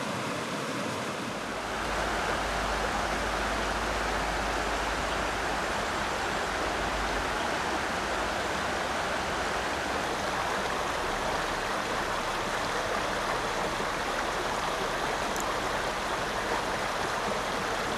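The Lüssel brook near Büsserach village rushes steadily, a dense, continuous broadband wash of flowing water heard close and unbroken throughout.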